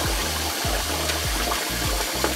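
Water running into a kitchen sink being filled for soaking fish, a steady broadband rush with low gurgling pulses repeating about every half second, close and moderately loud with no talk.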